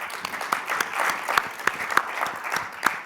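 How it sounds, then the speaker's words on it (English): A conference audience applauds steadily, with sharp individual claps standing out in a regular, fairly close rhythm over a continuous wash of clapping. "big round of applause to Microsoft and you"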